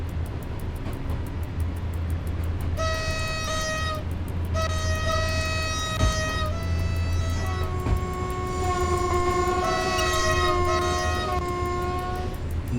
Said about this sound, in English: Thank you very much for the horn.